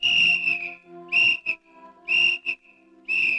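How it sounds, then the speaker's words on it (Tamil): Loud, close human whistling in a movie scene, four sharp shrill blasts separated by short pauses, with no speech over it. "இப்போ உனக்கு விசில் அடிக்கணும் அவ்வளவுதானே?"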